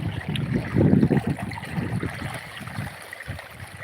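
Water gushes from an overflowing borewell in the Gir countryside, a close, continuous rushing whoosh that surges louder early, then settles into a steadier flow.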